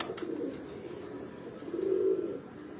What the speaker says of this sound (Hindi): जी गलवे कबूतर का तुहानू शौक करा रहे हैं जी